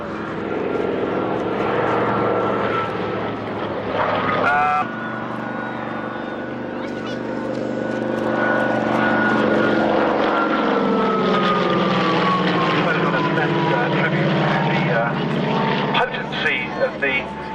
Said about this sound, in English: a lovely, lovely, lovely head-on approach by these two big aeroplanes